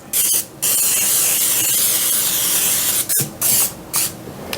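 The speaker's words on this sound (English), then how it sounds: "This is a 3-quart bacon dish, and I'm just going to spray it." Cooking spray hisses onto a 3-quart baking dish in a long steady burst, then a few shorter sprays, close and loud.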